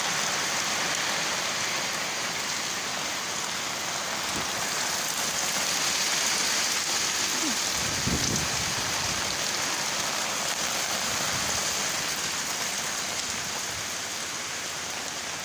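Steady, dense rain hissing continuously on surfaces, with no voices and a brief low rumble partway through.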